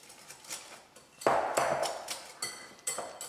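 Hash brown batter with chili powder and grated parmesan is stirred in a bowl, giving a series of uneven scraping clinks and taps, close and fairly loud with no talk.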